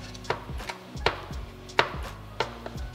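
A knife chops garlic on a board with about five distinct, crisp strikes at an uneven pace, close up and alone.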